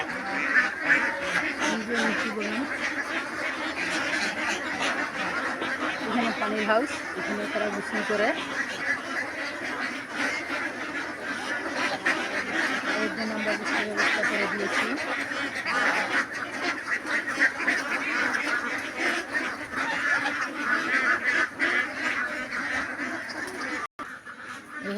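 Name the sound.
ducks on a duck farm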